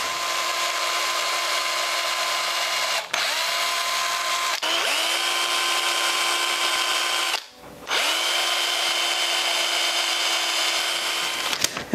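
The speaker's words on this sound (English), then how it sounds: "I'm gonna go ahead and drill the holes and install the hook hangers and the tie-on eye" Power drill boring holes into a stickbait fishing lure for hook hangers and a tie-on eye, a loud steady high whine running continuously with two or three brief pauses where the bit stops and restarts.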